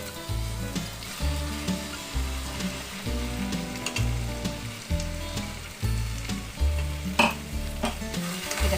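Marinated chicken frying in a red spice paste, stirred with a steady rhythmic scraping, low knocks about every second over a continuous close sizzle, no talking.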